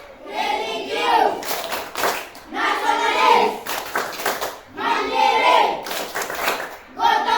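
Schoolchildren in a classroom perform the PPK clapping chant, rhythmic bursts of group hand claps alternating with loud shouted words, repeating in regular cycles.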